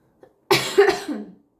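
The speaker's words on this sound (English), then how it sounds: "Sorry, guys, this cough." A single harsh, raspy cough bursts out close to the microphone, trailing off in a rough rattle; a tiny click comes just before it, with no speech.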